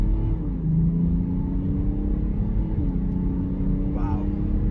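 A 2018 BMW X5 xDrive30d diesel SUV accelerating at full throttle, a close, steady engine drone with rising tone heard from inside the cabin, continuous and fairly loud.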